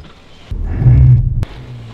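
A Volvo V40 D2 Momentum rolls up to a red light behind a stopped car and brakes on its own; a low cabin rumble swells for about a second, then ends in a single sharp click.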